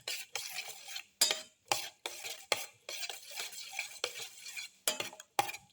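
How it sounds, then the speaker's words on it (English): Black pepper, mustard leaf and egg omelette ingredients being mixed and crushed in a bowl, with a series of irregular scraping and clinking strokes of a utensil against the bowl, close and fairly quiet, with short pauses between them. "Thoroughly mix and crush all the ingredients together."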